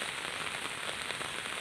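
Heavy rain falls in a steady, dense hiss of drops spattering on surfaces, even and unbroken, with no voices.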